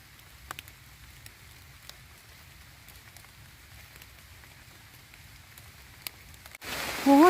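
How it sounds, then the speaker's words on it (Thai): Steady soft rain patters on a surface with occasional sharper drips, then a sudden loud burst of noise cuts in right at the end. "ฝนตกพี่น้อง"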